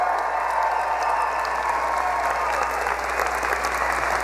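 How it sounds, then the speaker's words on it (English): Graduates and guests at a 2016 University of North Dakota summer commencement ceremony applaud together, a dense, sustained roar of clapping filling a large hall with faint cheering mixed in. "I want cheering and hands up, and let's hear it for our graduates"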